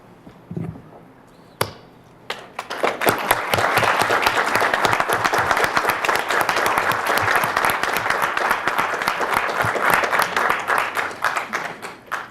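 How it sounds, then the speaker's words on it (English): A city council audience breaks into loud, sustained applause after the council approves a resolution. A few isolated claps come first, then the full applause runs steadily for about ten seconds. "Mayor, may we applaud?"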